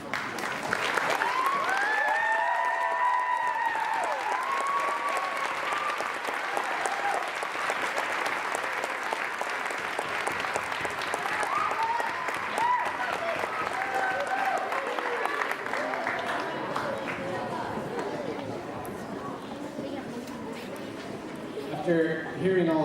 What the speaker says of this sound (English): So can those students please stand so we can give you a round of applause?